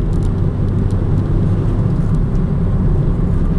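A Vauxhall Combo van with a 1.4 LPG engine hums in a constant low drone from inside the cab while driving through the gears, steady and fairly quiet with no sharp revving.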